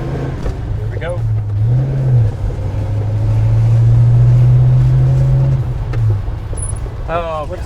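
The big engine of a 1967 Pontiac GTO rumbles deep and loud, swelling in a rev and settling back, while people talk over it nearby.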